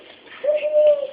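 A child imitates an owl's hoot with a single drawn-out, rising-then-steady vocal tone lasting under a second, heard close and alone.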